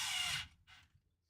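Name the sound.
drilling through plastic into metal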